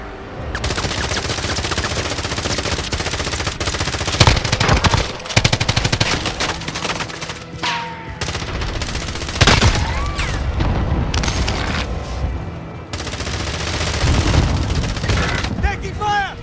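Heavy sustained gunfire in Call of Duty: Modern Warfare, with rapid automatic bursts, booming blasts and dense fusillades running almost without pause; faint game voices occasionally surface beneath the din.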